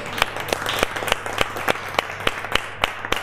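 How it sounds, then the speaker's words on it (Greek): Audience applause at a live Greek music show in Kavala, a loose run of individual claps, fairly close and moderately loud. "Ένα χειροκρότημα και από εδώ πέρα."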